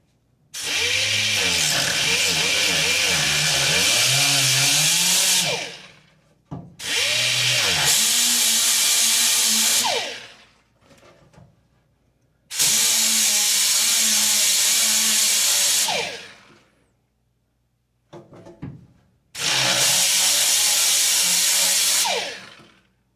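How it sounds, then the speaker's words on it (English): A power drill grinds a flat spot into the steel steering shaft of a 1986 Dodge D150 in four loud, sustained bursts of several seconds each, with short pauses between them, right up close. "Now to drill the flat spot in the steering shaft."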